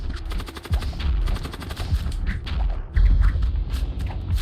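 Rapid bursts of gunfire in a ship boarding battle in the video game Void War, dense and continuous with heavy low thumps throughout.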